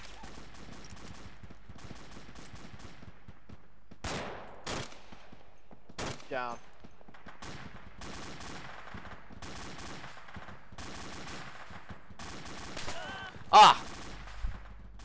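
Sporadic gunfire in the tactical shooter JSF10 during an operation: scattered sharp shots and short bursts spread across the scene, one louder close shot near the end, with quiet radio-style talk underneath.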